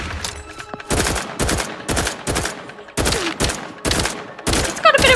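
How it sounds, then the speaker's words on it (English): Gunfire from a weapon in the video game Outer Worlds 2 sounds as a series of loud, evenly spaced single shots at a slow, regular pace, about two per second, with no talk. "It says it's rapid fire, but it's not. It's actually slow fire"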